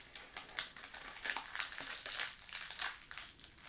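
Dry leaves crumpled and broken up close by children's hands, giving an irregular series of crisp crackling and crinkling bursts, quiet overall, with no voices.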